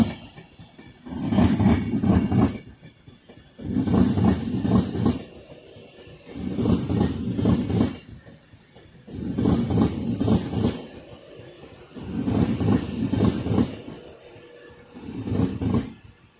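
Class 390 unit 390 008, the Charles Rennie Mackintosh, passes through Crewe station on the West Coast Main Line with loud rhythmic pulses of wheels over rail joints and a low rumble between, steady and close.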